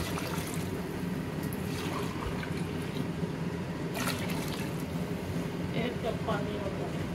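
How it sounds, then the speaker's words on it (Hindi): Yakhni stock poured into a pot of mutton for Pakistani lamb rice, a steady liquid trickle and splash running throughout with faint kitchen clatter. "इसमें मैंने यखनी डालना शुरू कर दी है"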